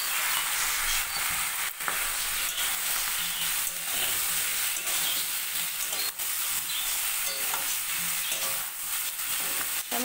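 Cut eggplant and potato fry with onion and nigella seeds in a pan, a steady, close sizzle of hot oil with soft crackles and occasional stirring scrapes running evenly throughout.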